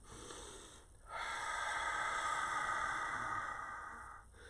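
Slow breathing close to the microphone while stepping: a short breath, a pause, then a long, steady airy exhale-like rush that fades and stops, quiet and alone with no talk.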